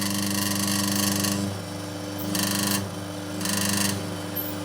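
A Frigidaire fridge compressor runs with a steady hum while a refrigerant line rattles against it, the buzzing rattle swelling and easing in repeated bursts, close by.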